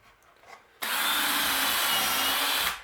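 A power drill bores countersunk screw holes into a wooden bluebird house, starting abruptly after a quiet moment and running as one loud, steady whir for about two seconds before cutting off.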